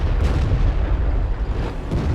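A WZ-111 tank's main gun fires in World of Tanks, giving a loud, dense booming rumble that fills the whole stretch, with a couple of sharper bursts layered over the continuous battle din and no talking.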